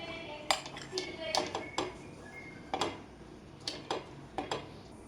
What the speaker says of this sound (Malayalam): എല്ലാം കൂടി മിക്സ് ചെയ്യാം